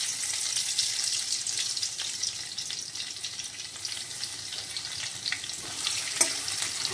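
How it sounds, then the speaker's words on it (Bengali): Garlic, two dried red chillies and nigella seeds fry in hot oil in a wok, a steady bright crackling sizzle running throughout with small pops and one sharper crackle near the end, no voices. "কড়াইতে দিয়ে দিলাম তেল, ওর মধ্যে শুকনো লঙ্কা দুটো দিয়ে দিলাম, আর দিলাম হচ্ছে কালো জিরে।"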